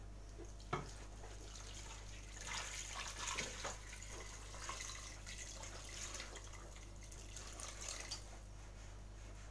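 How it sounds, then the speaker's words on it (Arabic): Water pours steadily into a cooking pot of cow trotters and chickpeas, a continuous close splashing and trickling with a few small knocks, no talking. "وغنضيف الماء نرويه مزيان"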